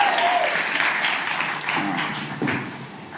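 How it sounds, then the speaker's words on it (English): Church congregation applauding during a Sunday service, dense clapping filling the room and slowly tapering, with a voice briefly audible over it. "Yeah, clap again."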